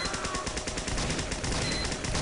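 Rapid gunfire from a Team Fortress 2 match crackles in dense, loud bursts, a quick run of overlapping shots with no pause and no talk.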